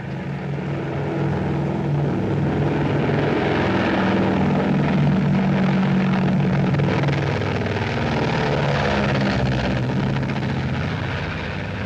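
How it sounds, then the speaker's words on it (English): A propeller airplane drones steadily overhead in a 1939 film scene, a loud continuous engine roar with a throbbing beat that holds level throughout, no voices. "Say, we're not going to take a plane, are we?"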